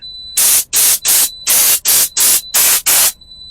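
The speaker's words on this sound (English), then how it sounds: "I ended up getting the air blower on Thursday" An air blower gives eight short, loud bursts of hissing air in a steady on-off rhythm, close by, each burst roughly a quarter second with brief gaps between.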